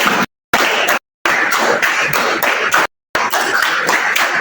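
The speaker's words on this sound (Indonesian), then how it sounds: "Tambah lagi. Tepuk 5 3 kali." A room full of schoolchildren claps hands in rhythm, close, loud bursts of massed claps in repeated sets broken by brief gaps.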